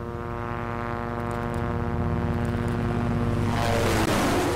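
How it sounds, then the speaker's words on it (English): A propeller airplane flies overhead in the video game Project Zomboid, a steady droning engine hum that swells and shifts pitch as it passes, loud and continuous, with no talk over it. "that's a plane"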